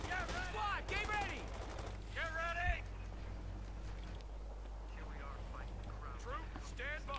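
Thompson submachine gun bursts crackle through a Company of Heroes 2 firefight as US Rangers overwhelm German Pioneers, the gunfire mixed under a steadily talking commentator's voice.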